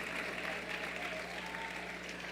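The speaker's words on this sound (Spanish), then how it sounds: "el aplauso se debe escuchar más grande porque son más las mujeres que los hombres" Congregation applauding in a church, a dense, steady wash of clapping from many hands at moderate distance, sustained evenly for a couple of seconds.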